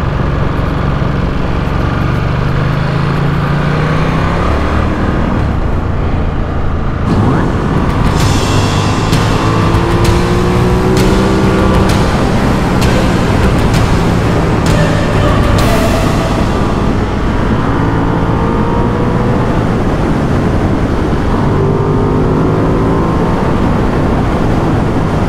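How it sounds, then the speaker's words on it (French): A small car engine drones steadily at close range on a winding mountain road through a village on a pass, with the pitch rising and falling as it revs through bends; a brief burst of rattling clicks breaks in partway through. "comment il pollue avec son petit moteur, c'est incroyable"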